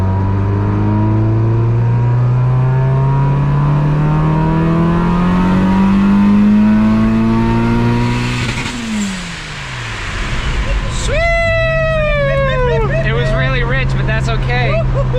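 A turbocharged Suzuki Vitara with a D16 engine revs hard at full throttle, its rising engine note climbing steadily and loudly before a brief drop and a whistling, fluttering turbo release, then the pull resumes.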